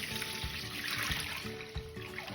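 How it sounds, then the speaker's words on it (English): Dirty paint water pours slowly from a bucket onto a filter, making a steady close trickle broken by a few distinct drips and splashes. "slowly pour onto the filter"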